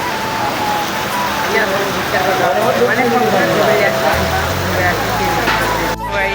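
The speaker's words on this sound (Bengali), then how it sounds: "দেখো বৃষ্টি হচ্ছে" Heavy rain pours down steadily outdoors as a wash of close, constant noise, with a low engine hum joining partway through.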